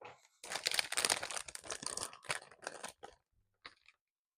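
A Miniso blind box is opened by hand with scissors nearby, producing close, busy crinkling, tearing and rustling of packaging in quick bursts that taper off into a few final crackles.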